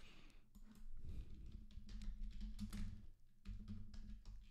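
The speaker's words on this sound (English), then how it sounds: "Typing too fast." Rapid, quiet clicking of fingers typing on a computer keyboard, coming in quick bursts with brief pauses between them.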